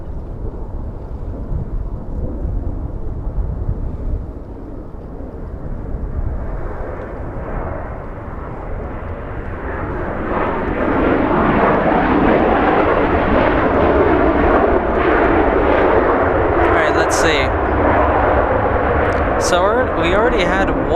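A Southwest airliner arrives from San Francisco at LAX, its jet roar swelling from a low rumble into a loud, broad rush in the second half, with people talking over it.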